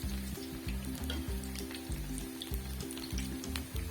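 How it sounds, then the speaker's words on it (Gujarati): Green pea kebabs fry in oil over medium heat, crackling and sizzling steadily up close, with a low humming drone pulsing underneath and nobody speaking. "મીડિયમ ફાસ્ટ કરીને આપણે તળવાની છે કબાબને."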